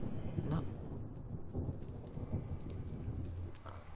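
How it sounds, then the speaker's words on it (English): A thunderstorm in Minecraft with the Localized Weather mod, low rumbling thunder rolling continuously with a few heavier swells, steady and moderately loud throughout. "Oh, dang, we have a storm."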